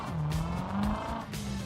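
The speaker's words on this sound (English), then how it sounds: "just gotta get some wheel spin going" A car's wheels spinning with squealing tires, a close, steady engine roar with a high tonal screech running through it and short bursts of skid noise.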